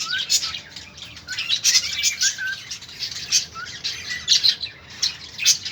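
Small birds chirping and tweeting nearby as they are fed chickpeas, bright overlapping calls in quick bursts with a few wing flutters, lively and close.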